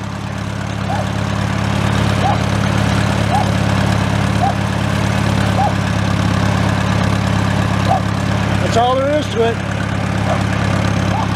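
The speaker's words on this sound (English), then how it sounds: "I look at that flapper, it tells me a lot, the exhaust. It's nice and smooth. This thing really does run pretty good" An antique tractor engine idling steadily with a smooth low exhaust chug, close and continuous, while someone speaks briefly over it.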